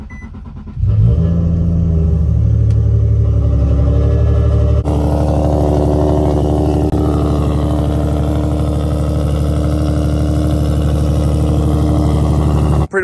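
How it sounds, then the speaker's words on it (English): Cold start of an Infiniti G37 running E85 fuel: the engine catches with a sudden loud rumble, settles into a high fast idle, then drops to a steadier, deep, throaty idle that continues up close. "This is a official cold start on E85"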